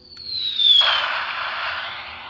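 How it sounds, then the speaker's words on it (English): A high whistling whine drops in pitch, then bursts into a loud hissing, crackling blast that slowly fades, like a small cannon shot exploding. "The cannon shoots out and explodes."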